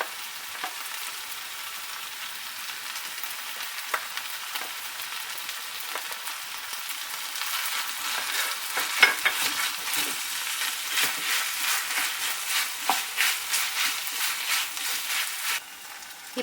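Chicken pieces for a Pallipalayam chicken fry sauté in a hot pan, a continuous sizzle with bursts of scraping and stirring that grow busier and louder midway before stopping abruptly near the end.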